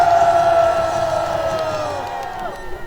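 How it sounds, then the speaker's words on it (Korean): Large outdoor rally crowd in Gwanghwamun Square cheering and shouting together, a loud sustained roar with a prominent drawn-out voiced cry that gradually fades. "우리 지규현 판사도 위에서 박수 한번 쳐주세요."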